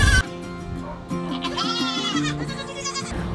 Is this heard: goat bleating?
yes